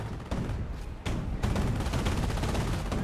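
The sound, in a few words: artillery fire in video game Company of Heroes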